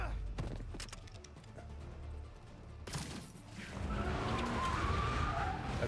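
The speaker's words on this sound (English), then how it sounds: "I didn't know the truck was coming, but I hit it." In the Spider-Man 2 video game, tires skid and squeal in a long screech, then a sudden crashing impact as a truck is hit, followed by a rougher rush of road and vehicle noise.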